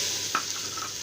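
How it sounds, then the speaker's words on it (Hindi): A quarter cup of oil heats in a pan on a lit stove for a curry, giving a steady, soft hiss with one brief clink partway through. "सबसे पहले हम इसमें ऑयल डालेंगे"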